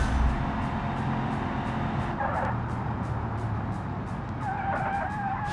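A car in the BeamNG driving game brakes hard with ABS, a steady engine rumble running under a rapid, rhythmic pulsing, and two short bursts of tire squeal come through near the middle and the end.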